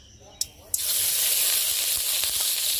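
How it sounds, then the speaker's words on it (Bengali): Ghee for frying cashews goes into a hot pan. Two quick taps are followed by a sudden loud hiss that settles into a steady, close sizzle. "এবারে কাজু ভাজার জন্য দিয়ে দেবো একটু ঘি।"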